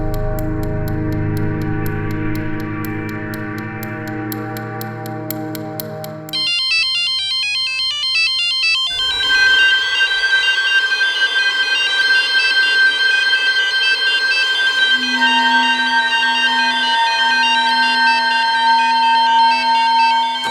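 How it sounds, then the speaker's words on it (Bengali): A loud electronic ringtone tone plays continuously, shifting from a buzzing pattern to a higher warbling melody, standing alone without speech for about twenty seconds, in the role of a telephone ringing. "ফোনটা তুলুন"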